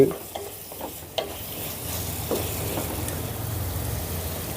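A spoon stirs mint rice mixture sizzling in a hot pan after salt and lemon juice go in, with a few scraping clinks over steady frying hiss and no talk.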